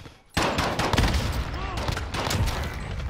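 Pistol gunfire in a tense multiplayer video game shootout, with a sudden start into loud, close, rapid shots and crackling bursts that continue with brief gaps. Voices sit faintly beneath.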